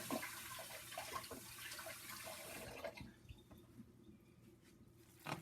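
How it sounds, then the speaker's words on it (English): Hands are washed under running tap water while handling ground turkey, a steady quiet splash that stops partway through, leaving faint drips and small handling sounds. "So you're gonna hear me washing my hands because I do that often when I'm messing with meat in any way."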